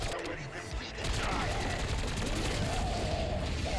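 Sustained rapid gunfire from a gun in the video game Black Ops 6 forms a dense, continuous barrage of loud shots with mechanical clatter, and the intensity rises slightly after the first second.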